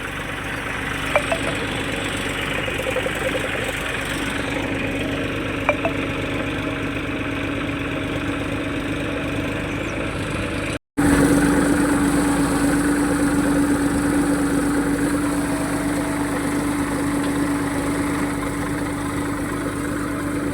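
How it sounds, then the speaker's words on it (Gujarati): A tractor brought to a farm plot to sow wheat idles steadily with a low, even engine rumble and faint knocking throughout, interrupted only by a brief cut partway through before the idle resumes, a little louder. "તો મિત્રો આપણું ટ્રેક્ટર આવી ગયું છે ઘઉં વાવવા અત્યારે."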